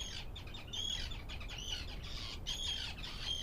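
Wild birds in Iceland call with repeated squawks and chirps while flying close around the microphones, over a steady low rumble of wind.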